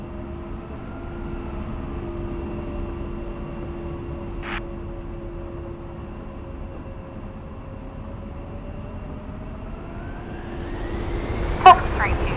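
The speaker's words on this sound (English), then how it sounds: "You are cleared for takeoff." An A-10C jet in the DCS flight simulator holds a steady engine whine that rises in pitch as it begins its takeoff roll, with a brief click near the end.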